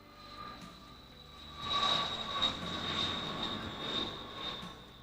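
A KC-135 air-to-air refuelling tanker flies at the 1987 International Air Tattoo at RAF Fairford. Its steady engine whine and roar swell as it passes at a moderate distance, with no voices.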